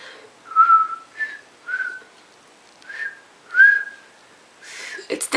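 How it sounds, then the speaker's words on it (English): A person with Bell's palsy keeps trying to whistle, giving a string of about six short, wavering whistle notes close up, broken by breathy gaps and ending in rustling handling noise. "Still can't whistle."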